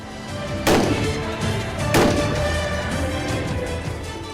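Two loud rifle shots crack out from soldiers firing at an army shooting range, spaced just over a second apart, each one ringing out over a steady outdoor background.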